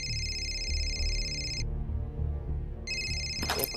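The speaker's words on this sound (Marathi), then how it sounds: "फोन कुठं वाजतोय रे?" Electronic telephone ringtone in a TV drama scene, sounding in repeated bursts with a short gap between them, moderately loud over a low background.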